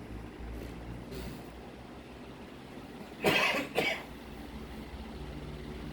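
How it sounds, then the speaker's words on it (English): Two quick coughs a little way off, standing out over a steady low hum from an antique Diehl three-speed electric fan running on medium speed. "That's the boss coughing in the background."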